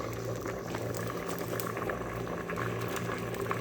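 Pork leg soup with string beans bubbling at a steady rolling boil in a pot, a continuous close simmering gurgle with no voices.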